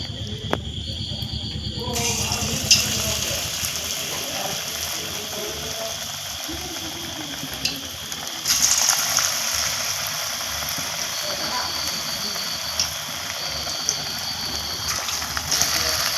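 Papaya and potato pakoras fry in hot oil, giving a steady, close sizzling hiss with fine crackle that runs throughout and swells partway through.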